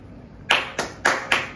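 Hands clap four times at an even pace at a birthday gathering, crisp and close after a brief quiet.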